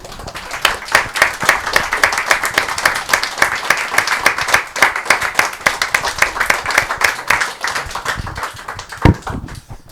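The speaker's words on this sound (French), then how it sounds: "On va vous applaudir" Audience applause at a film screening and talk, a room of people clapping in a crisp, rhythmic patter that swells, then thins out toward the end with a few last isolated claps.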